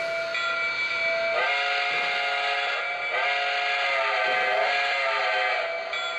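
A Lionel 700E Hudson model train from the Legacy Vision Line runs with a sustained steam whistle, tonal blasts that swell and dip in several pulses over continuous running noise, close and loud.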